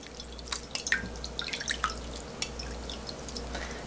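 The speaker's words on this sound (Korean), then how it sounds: "이게 냉면을 이렇게 전분기를 씻어줘야 돼요" Cold naengmyeon noodles being rinsed in water to wash off starch, giving a run of light drips and small splashes, close and fairly quiet, with no talking.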